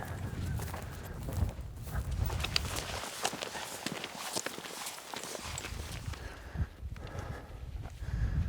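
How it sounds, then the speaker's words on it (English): A white horse walks along a late-season mountain goat hunting trail in cliff country, its hooves clip-clopping in a steady, uneven rhythm close by, with rustling and outdoor noise around it. "I'm on a white horse today."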